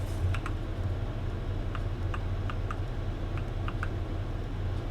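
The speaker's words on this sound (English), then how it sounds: "There's a clicking noise coming from the engine in game." Irregular light ticks and clicks come from a car engine in The Long Drive video game, a sparse tapping pattern over a steady low engine hum.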